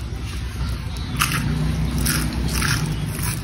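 Crispy fried celery leaf fritter bitten into, with a few crunchy snaps over a low background hum.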